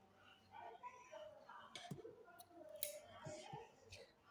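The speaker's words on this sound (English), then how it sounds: "Now I am going to cut this yarn" Quiet snips of scissors cutting crochet yarn, a couple of soft clicks near the middle, while a person talks softly nearby.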